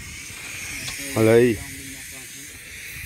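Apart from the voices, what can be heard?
wild boar meat sizzling on grill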